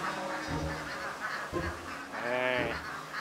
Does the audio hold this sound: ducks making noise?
yes